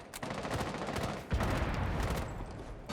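Rapid gunfire from the video game Rainbow Six Siege, dense bursts of shots throughout with a louder, heavier volley partway through, close and continuous with no talking.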